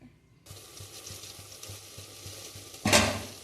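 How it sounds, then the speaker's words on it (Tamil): Village-style chicken kulambu curry with meat bubbling and sizzling in a pot, a steady close simmer with regular soft pops, and a louder splash of stirring near the end. "நல்லா கொதிச்சுட்ருக்கு."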